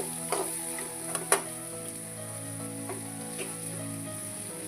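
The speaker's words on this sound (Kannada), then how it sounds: "ಚಂದಿಗೆ ಸ್ವಲ್ಪ ಬೇಯಿಸ್ಕೊಳ್ಳೋಣ ಫ್ರೈ ಮಾಡ್ಕೊಳ್ಳೋಣ" Green peas frying in a pan for a North Karnataka breakfast recipe, a steady low sizzle running throughout with a few brief clinks and stirring knocks, close and fairly quiet with no talking.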